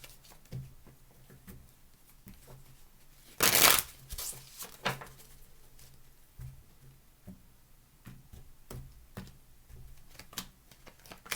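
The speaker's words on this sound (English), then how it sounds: "2 more shuffles, please" Tarot cards are shuffled in quiet, scattered riffles and taps, with one sharp louder burst of flicking cards partway through.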